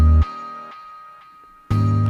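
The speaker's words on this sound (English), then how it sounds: "I keep the same bass, so that sounds like this." A deep sustained bass line from a sample-based beat hits loud at the start, decays under a lighter sampled layer, then strikes again, with no talking.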